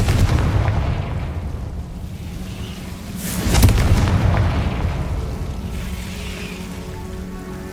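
A Confringo spell blast in the video game Hogwarts Legacy, a heavy booming explosion that swells midway through a loud, rumbling game soundscape and then fades into a lingering roar.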